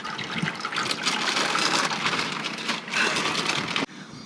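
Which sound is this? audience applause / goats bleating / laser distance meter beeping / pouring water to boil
pouring water to boil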